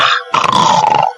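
A man imitates a dog's bark to frighten a witch, giving a short, loud, rough growling bark after a brief first burst, close and alone with no other talk.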